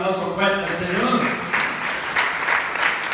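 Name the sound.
congregation applause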